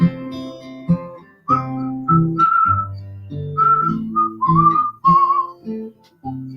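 Someone whistles a melody in clear, sustained notes, loud and close, over a low instrumental accompaniment with occasional plucked beats.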